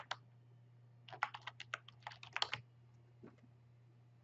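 Someone types a short name into a computer keyboard while setting up a YouTube brand account: a quick burst of light, irregular keystrokes, then a few isolated taps, all faint over a steady low hum.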